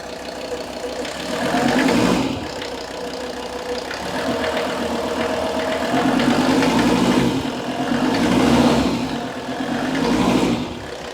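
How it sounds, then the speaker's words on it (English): A Mercedes-Benz S123 300TD diesel, worn after 720,000 km, revs up from idle in two or three rising swells, its rough clattering note loud and close throughout with no talking. "Just gonna rev it a bit."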